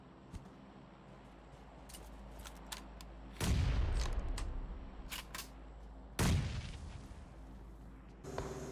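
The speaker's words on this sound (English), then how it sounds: "I saw that there were two enemies firing at each other," Gunfire in the PUBG video game as two enemies shoot at each other, with a few faint distant pops, then two loud, heavy bursts of rapid shots over a steady low game-ambience hum.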